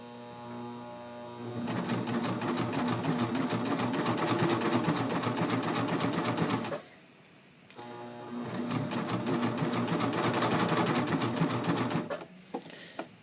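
A coverstitch sewing machine runs steadily while hemming a triple cover neckline, a loud continuous mechanical whir in two long bursts with a brief pause between them, close up and without talk.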